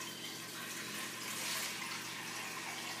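Water pours steadily into a pressure cooker, a continuous soft splashing hiss from a pre-measured cup, fairly quiet and unbroken.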